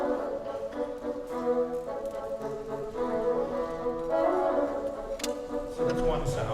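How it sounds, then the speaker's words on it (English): Bassoons of the Halle Orchestra playing a low, reedy, sustained melodic line, steady and moderately loud throughout. "the bassoons are going to sound like this"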